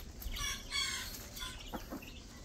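A rooster on a small backyard chicken farm gives a few short clucking calls over steady outdoor background noise, moderately close.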